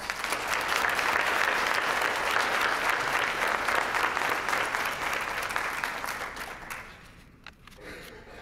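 Dense, sustained applause from a crowd honoring graduating students at a 2016 high school graduation celebration, loud and steady before thinning out near the end.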